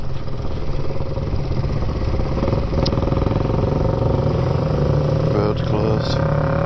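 A BSA A10 650 motorcycle engine thrums steadily while riding in top gear before a downshift, with a dense, loud low-pitched drone and brief mechanical clicks.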